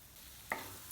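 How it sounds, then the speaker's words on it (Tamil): Whole spices (cinnamon, cardamom, cloves, fennel seeds) crackle and sizzle in hot oil, a quiet hiss that jumps to a sharper, steady sizzle halfway through. "இதெல்லாம் நல்லா பொரிஞ்சிருச்சு."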